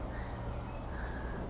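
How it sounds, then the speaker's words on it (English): Crows caw somewhere outdoors on an evening, faint and distant, over a constant background hiss. "Hopefully you can hear the birds behind me."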